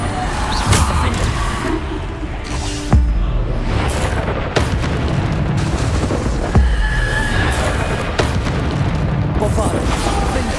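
Bombarda explosion spells booming repeatedly in the Hogwarts Legacy video game amid a dense, loud clatter of combat blasts and pops, with a voice speaking intermittently over the chaos.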